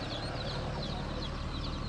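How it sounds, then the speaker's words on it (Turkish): Chickens cluck and chatter at a busy outdoor poultry market in Taşköprü, Kastamonu, with short repeated calls over a steady, noisy background murmur. "Garantili tavuklarımız."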